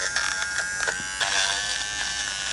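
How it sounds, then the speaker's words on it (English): A Philips Norelco Multigroom 5100 nose trimmer runs close by with a high, steady electric buzz that wavers slightly in pitch as it moves, in a short burst with no talking. "Let's try the nose trimmer."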